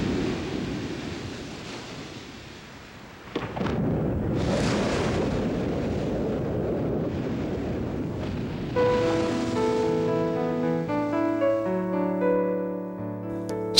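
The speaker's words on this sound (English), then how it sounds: "huge sections of glacial cliff break away," Ice breaks off a glacial cliff and crashes into the sea in Alaska, a sudden sharp impact at about three seconds followed by a long roaring wash of water. Wind and surf noise run under it, and a musical tone enters near the end.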